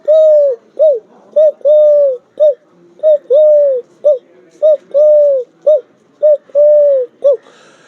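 A human voice imitates the call of a local dove, a rhythmic run of short and drawn-out hollow coos in bouncing groups, loud, close and alone.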